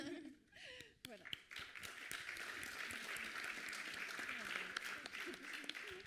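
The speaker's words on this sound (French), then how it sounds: "On a beaucoup applaudi les jeunes" An audience at a national award ceremony claps warmly and steadily, a dense wave of applause that swells and holds, with a few voices audible near the start.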